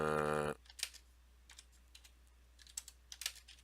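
Computer keyboard typing heard as a few scattered, separate keystrokes after a short loud tone at the start, in an otherwise quiet room.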